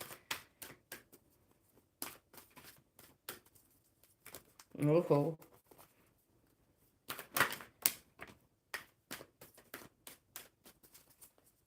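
Playing cards being shuffled for a reading: quick crisp riffles and snapping flicks come in short scattered bursts, with a brief voice partway through.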